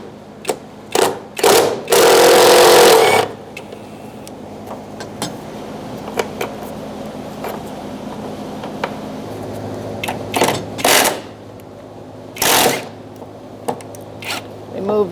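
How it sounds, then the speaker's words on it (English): A socket wrench with a 10mm socket and extension works a bolt loose on a 2002-2006 Toyota Camry during vapor canister replacement, giving short bursts of ratcheting clicks, one longer whirring run, and scattered taps near the microphone. "I'm going to remove this one as well using a 10mm socket and an extension."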